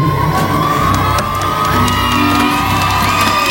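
A crowd at a tribute concert for a singer's lookalike cheers loudly and close up, with whoops and shouts over a dense, continuous roar; music may carry on faintly underneath, and no clear speech stands out.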